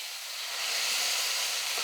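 Ground tomato and Kashmiri chili paste sauté in a pan with a broad, steady hissing sizzle that swells slightly and holds, with no voices.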